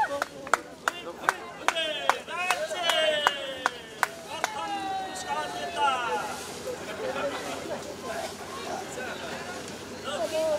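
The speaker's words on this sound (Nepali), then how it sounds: "कृपया जोरदार तालीले सम्मान भाव व्यक्त गरौ" Crowd claps in brisk rhythmic unison at a Nepali media cup rope-pulling (dori taan) award ceremony, sharp and loud for a few seconds before fading under voices and a speaker talking.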